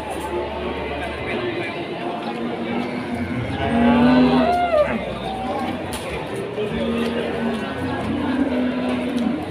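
Cattle low at a busy livestock market in Ambarawa. One loud, drawn-out moo rises near the middle and fainter lowing follows, over a crowded background of people and movement.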